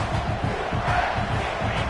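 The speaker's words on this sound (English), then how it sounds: "Listen to this crowd just shaking the girders of this place, trying to help their defense." A loud college football stadium crowd roars steadily during South Carolina versus Alabama, a dense continuous wall of yelling fans heard close.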